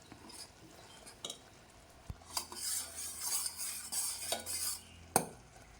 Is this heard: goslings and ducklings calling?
no